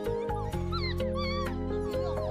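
Young border collie puppies whimper and yip up close, thin high-pitched cries in short repeated bursts over a steady background hum.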